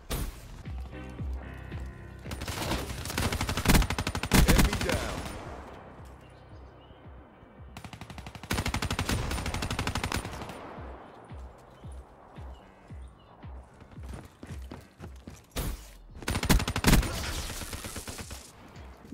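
A fast-firing gun in a first-person shooter video game lets off loud, rapid bursts of automatic fire, several dense volleys a few seconds long separated by quieter stretches.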